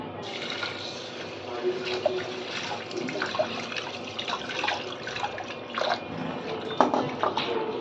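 Water sloshes and splashes steadily as urad dal is swished around in a bowl, a continuous wet rustle with occasional louder splashes.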